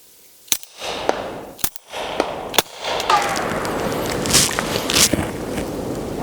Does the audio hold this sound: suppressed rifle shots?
yes